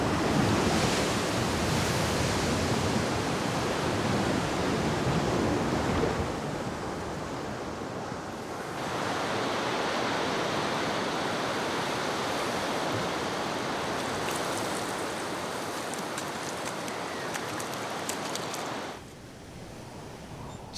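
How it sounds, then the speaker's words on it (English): Sea waves and gusting wind on the coast of Stewart Island, New Zealand: a dense, continuous roar of surf whipped by squalls, loud and close, easing briefly near the end, no voices. "For the squalls that whip up the sea as if urging the waves to play even louder."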